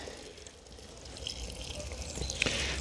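Water is poured into a container in a kitchen while preparing a sandwich, a soft trickling pour that grows a little louder toward the end, with no talking.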